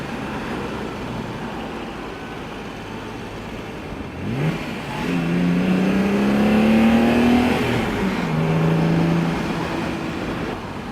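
A 1971 Mercedes-Benz 280SL Pagoda engine revs up and accelerates partway through, its pitch climbing steadily, then drops and climbs again over road noise.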